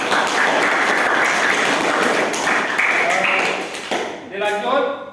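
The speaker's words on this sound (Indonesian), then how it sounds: "Marilah kita tepuk tangan untuk kelompok" Applause from a classroom of students for a student group that has just presented, dense clapping filling most of the clip before fading into a teacher's voice at the end.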